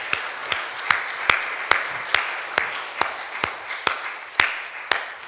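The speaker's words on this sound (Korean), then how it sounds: "우리 다 감사의 박수하면 참 좋겠습니다" A church congregation during a Sunday service applauds in thanks for the deacons, sharp claps in a steady beat roughly twice a second over a softer wash of scattered clapping.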